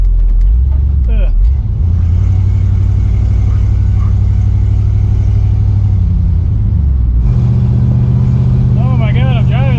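A lowered Ford Galaxie drives on a cruise, its engine rumbling loudly and steadily with changes in pitch as it shifts and revs, heard from inside the car alongside occasional speech.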